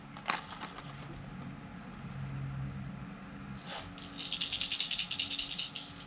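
Carl's Amazing Baits Thwacker lipless crankbait shaken by hand, with a faint tick early on and then a burst of bright, rapid rattling near the end of a quiet indoor moment.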